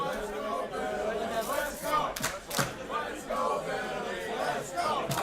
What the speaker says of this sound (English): The crowd cheering for Billy. Crowd going wild.